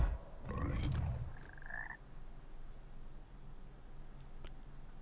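A croaking frog in the video game Hogwarts Legacy, heard as one loud, low burst followed by a short pitched croak, then quieter background ambience.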